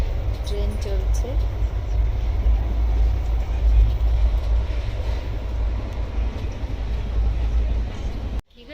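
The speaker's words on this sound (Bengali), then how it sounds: "ট্রেন চলছে।" A passenger train running along the track, its steady low rumble and rolling clatter filling the whole clip at close range before cutting off abruptly near the end.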